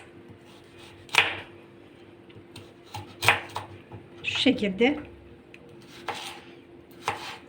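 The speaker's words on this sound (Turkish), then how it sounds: "Havuçlarımızı jülyen doğrayacağız." Sharp, irregular knife chops julienning carrots on a cutting board, several crisp strikes spaced apart, with a voice speaking briefly between them.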